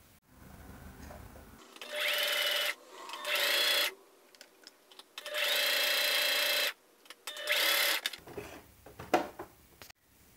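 A sewing machine runs in several bursts stitching chiffon, a steady whirring hum starting and stopping, with quiet handling noises in the pauses.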